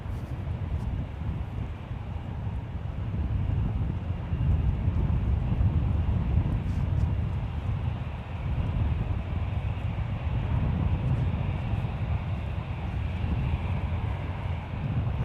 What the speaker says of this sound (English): This departure is United Airlines Flight 115 departing to Tahiti. It's a 6-year-old 787-9 Dreamliner.